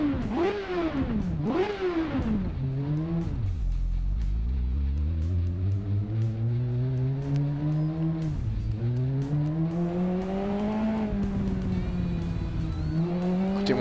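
A 1998 Suzuki GSX-R 750 sport motorcycle engine in the racing game Ride screams loudly and continuously, rising through the revs, dropping sharply at gear changes and climbing again on acceleration.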